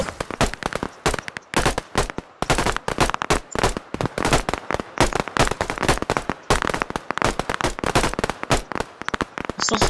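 Gunfire in a video game, dense rapid bursts of cracking shots filling the scene, loud and close, nearly continuous with brief gaps.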